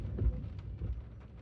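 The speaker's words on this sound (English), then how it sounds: "The thunder." Thunder rumbles low and heavy during a stormy autumn day, a deep rolling boom with a second softer swell, mixed with a faint steady hiss of rain.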